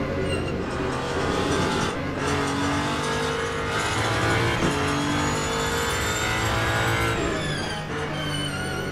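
A Porsche 963 prototype race car in the Le Mans Ultimate racing game roars continuously at high revs with gear-shift dips, running close behind another car, loud and steady without talk.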